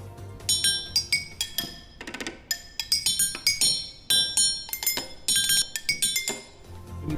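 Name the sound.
bars being struck and ringing, like a percussion instrument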